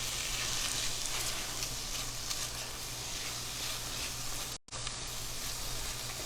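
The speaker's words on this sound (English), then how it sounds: "You want to let that garlic cook a little bit more." Crushed garlic sizzles in a pan over high heat while being stirred, the start of a pasta puttanesca; a steady, close, bright hiss runs throughout, broken by a brief dropout near the end.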